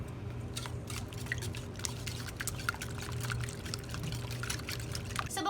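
Egg mixture for a tortilla wrap is whisked in a bowl: a steady run of soft, wet clicks and light splashes, close and continuous, over a low background hum.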